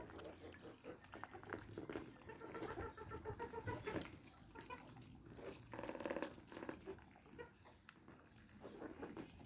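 Free-range local chickens cluck softly in a quiet outdoor yard, their intermittent calls low and somewhat distant, with faint voices occasionally audible.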